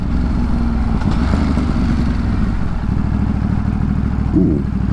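A motorcycle riding through New York City streets drones steadily, its engine rumble loud and continuous with a slight rise in pitch partway through, no talking over it.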